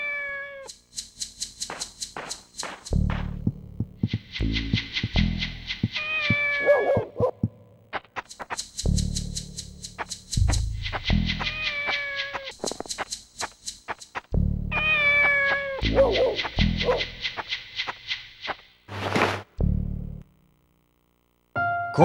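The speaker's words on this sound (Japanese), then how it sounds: "猫が鳴いてるな。" A kitten meows repeatedly in the Shenmue video game, its clear, high cries recurring in bursts of several calls between low thuds and quieter gaps, with no talking.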